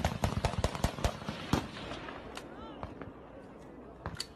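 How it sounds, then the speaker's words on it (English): Rapid bursts of gunshots crack out in a quick irregular volley, loud and sharp at first and then thinning to scattered, more distant reports, with a voice faintly underneath. "These definitely sound like gunshots."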